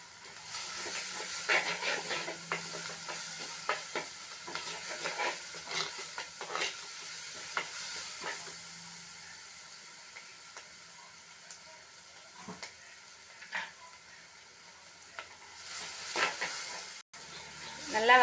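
Onions with ginger garlic paste sautéing in a clay pot for chicken kuzhambu, a fairly faint crackling sizzle with scattered stirring scrapes that rise and fall through the stretch.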